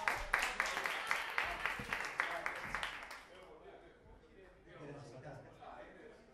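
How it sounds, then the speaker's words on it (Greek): Applause from a karaoke crowd after a singer's song, a burst of quick claps that is fairly loud at first, then thins out and fades, with a voice speaking over it. "Ένα χειροκρότημα να ξέρει τον κύριο Βασίλη."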